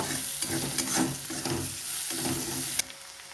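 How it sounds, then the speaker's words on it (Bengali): Sliced onions sizzle in hot oil in a pan while being stirred for a prawn curry, a steady frying hiss broken by repeated soft scraping strokes, close by, with a sharp clink near the end. "এবার আমি পেঁয়াজগুলোকে দিয়ে দেবো পেঁয়াজগুলোকে একটু হালকা লালভাবে ভেজে নেব"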